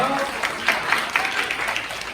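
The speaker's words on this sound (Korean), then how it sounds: "박수 한번 쳐주세요, 여러분" Applause from a children's audience at a church youth retreat program in Busan, a steady broadband clapping sound with mixed voices underneath.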